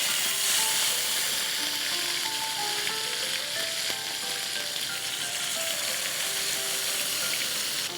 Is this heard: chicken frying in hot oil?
yes